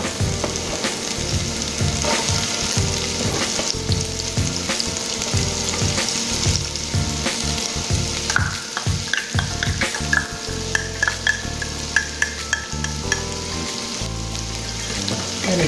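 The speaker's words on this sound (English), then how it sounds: "Yes, good sizzle." Vegetables sizzle and crackle steadily in a hot pan, a constant loud hiss with occasional stirring clatter and soft popping.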